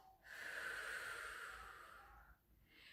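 A deep breath let out slowly, a long, steady airy exhale lasting a couple of seconds, close and fairly soft, trailing off before a fresh intake of breath.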